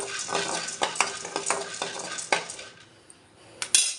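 Roasted gram dal (putnala pappu) being stirred in a pan with a metal spoon: repeated scraping, clinking strokes over a light frying sizzle, close and fairly loud, with a brief louder clatter near the end.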